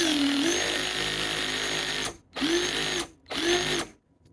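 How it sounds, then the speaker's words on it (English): A Bauer combi hammer drill whirs loudly in three bursts, spinning up and down with brief pauses between, close by and without talk. "I call it a combi drill."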